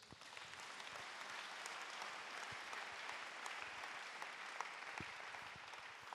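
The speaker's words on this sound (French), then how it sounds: "Acclame Jésus" A church congregation applauds in a steady, dense patter of clapping that lasts the whole six seconds, fairly faint and even with a few sharper claps, and no speech over it.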